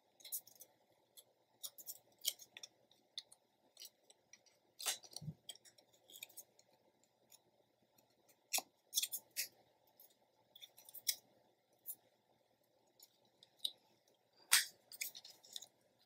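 Scissors fussy-cut paper from a 12x12 cover in quiet, close, crisp snips arriving in irregular bursts, with soft rustling of paper between cuts.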